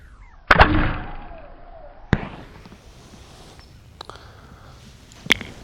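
A 463-grain gold tip arrow shot from a bow strikes a target 30 yards away with one sharp, fairly loud thwack, followed by a few faint scattered clicks and a quiet background.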